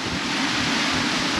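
Aboard a catamaran at sea in 15 knots of beam wind and a swell of about 1.5 m, wind rushes over the microphone with a steady wash of waves, broad and continuous.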